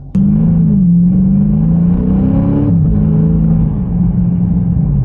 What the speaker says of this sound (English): Under hard acceleration, you can feel that gear kick in a little bit.